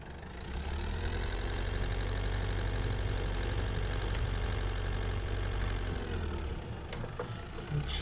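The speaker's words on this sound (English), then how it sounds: "Start the engine." A tractor engine in Farming Simulator 22 idles with a steady, loud low-pitched rumble that runs almost the whole time and then drops off near the end, with no talking over it.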